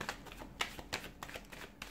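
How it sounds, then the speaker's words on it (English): Tarot cards being shuffled by hand, a quick run of soft riffling flicks and slaps, close and fairly quiet, with no talk. "give the cards a shuffle"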